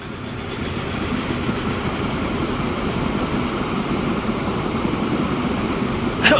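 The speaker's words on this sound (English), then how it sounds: "Train approaching!" A steady low rumble of a train rolling past in the video game Transport Fever 2, constant and fairly loud, with a faint rhythmic clatter and a brief hiss at the very end.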